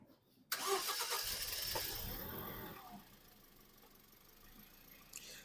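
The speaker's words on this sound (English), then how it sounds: "start the engine" A Toyota Yaris engine cranks briefly with a whirring starter, slightly slow on a low battery, then catches and settles into a steady idle, close by with no talking.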